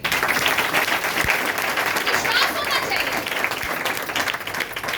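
An audience at a stage talk breaks into steady, dense applause lasting throughout, with a speaker's voice briefly heard over the clapping.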